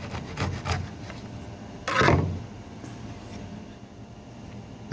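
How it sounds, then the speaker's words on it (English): Tenon saw cutting off excess oak hinge pins on a timber hinge, a few quick rasping strokes followed by one longer, louder scrape, then quieter background. "I need to remove the excess hinge pins. Just do that with a tenon saw."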